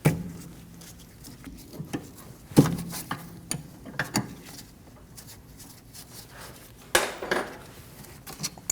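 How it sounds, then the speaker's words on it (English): Metal clinks and ratcheting clicks of a 13mm wrench loosening the two rear brake caliper bolts on a 2012-2022 Volkswagen Passat, scattered close-up taps with sharper metallic knocks near three and seven seconds, no talking. "Using a 13mm wrench, remove the 2 caliper bolts."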